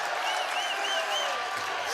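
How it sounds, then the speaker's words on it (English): The crowd at a varsity boys basketball playoff game between Wasatch and Salem Hills keeps up continuous applause and excited cheering, loud and dense, with scattered whistles above the roar. "Wasatch's crowd is getting very hyped."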